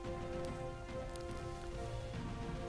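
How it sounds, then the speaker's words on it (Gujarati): Sudden unseasonal late-night rain falling over Modasa town in Aravalli district during a cold spell, a steady, even wash of rain noise with no voices. "મોડાસા શહેરમાં અચાનક કમોસમી વરસાદ વરસ્યો છે"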